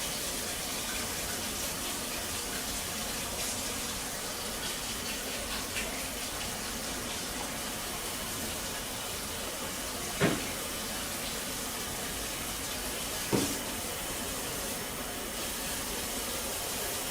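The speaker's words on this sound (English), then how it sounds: "I'm going to grab some water" Warm tap water running into a basin, a steady hissing flow heard alone throughout, broken by a couple of brief knocks.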